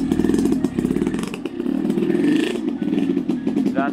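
A shabby motorcycle engine runs steadily and loudly throughout, a rough, chugging drone with clattering texture and slight revving swells.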